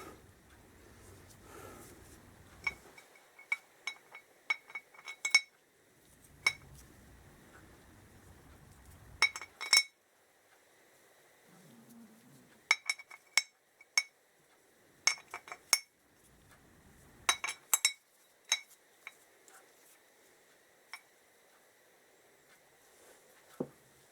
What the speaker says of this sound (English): now I can drop the new bolts through